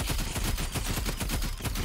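Golden paintball gun firing in the Roblox game Rivals, a dense, continuous burst of rapid shots in a steady rhythm with no gaps, loud and close, with no speech.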